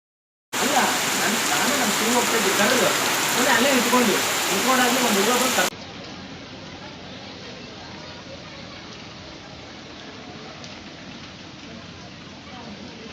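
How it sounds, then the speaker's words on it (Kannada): Heavy rain falls on flooded city streets as a dense, loud hiss for about five seconds, then abruptly drops to a softer, steady patter. "ಮಳೆ ಬರೇ ಬರ್ತಿತ್ತು"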